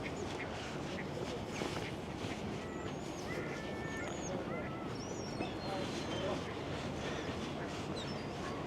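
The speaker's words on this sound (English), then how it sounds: "We've got a lot of seagulls over here out to play." Seagulls call beside the Detroit riverwalk, several short squawks and cries scattered through the clip over a loud, steady outdoor wash of wind and city ambience.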